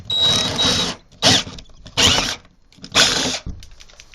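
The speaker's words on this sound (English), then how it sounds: "and now I'm going to start drilling." A power drill whines in three bursts of about half a second each, boring through a wooden door from a pilot hole, with short pauses between runs, up close and loud.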